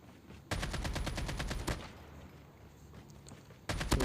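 Rapid automatic gunfire in Call of Duty Mobile as a player shoots down an AI bot, with dense bursts of shots in quick succession, a brief lull and more firing at the end.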